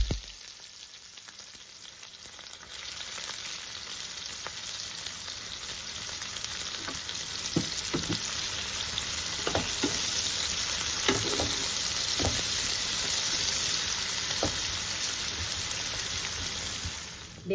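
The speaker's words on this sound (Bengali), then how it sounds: "তাই এবার পেঁয়াজ ভেজে নেব" Onions fry in white oil for beresta, a dense, steady hiss of bubbling oil close up, with occasional light spatula taps and ticks scattered through it and no speech.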